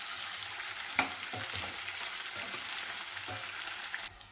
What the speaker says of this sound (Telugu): ఇప్పుడు ఉల్లిపాయ ముక్కలు మంచి కలర్ వచ్చే వరకు మనం వేసుకొని పెట్టుకోవాలి